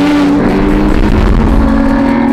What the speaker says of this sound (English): Do you guys hear that exhaust horn?